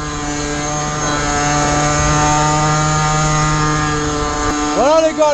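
A Gilera SMT 50cc motorcycle from 2013, fitted with a Top Perf kit, strains uphill with a loud, steady high-pitched two-stroke drone that rises slightly, then revs and pitch sweeps near the end.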